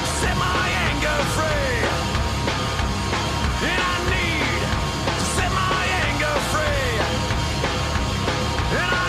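Dense, smeared cymbal wash runs throughout a heavy rock track, with constant loud drums, distorted guitars and a voice over the top.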